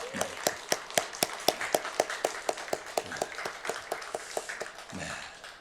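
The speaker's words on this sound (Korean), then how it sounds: "우리 다 모두를 위해서 우리 한번 박수 한번 하겠습니다." A church congregation at a New Year's Eve service claps together in a steady, even rhythm, roughly four sharp claps per second, loud and close, continuing for several seconds before tapering off.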